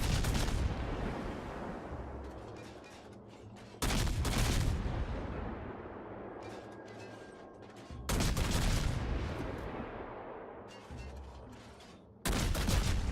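Warship guns in World of Warships fire at a battleship in three heavy broadside salvos, each a loud booming blast that decays into rumbling echoes before the next one.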